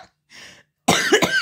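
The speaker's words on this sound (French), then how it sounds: "Je tousse toujours, j'ai toujours le nez qui coule." A single harsh, close cough bursts out after a couple of soft breaths.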